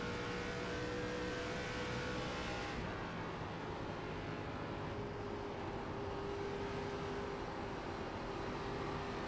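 An ARCA race car in iRacing at Homestead Miami holds a steady, droning engine roar with a constant tone throughout, rising slightly in pitch as it accelerates, with no talk over it.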